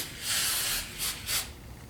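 Spray can hissing in three bursts, one long followed by two short, loud and close, spraying an area during a 1985 Chevy K10 restoration.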